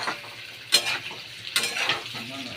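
Food frying in a pan until reddish, a steady sizzle punctuated by three sharp spatula scrapes and clanks against the pan at regular intervals.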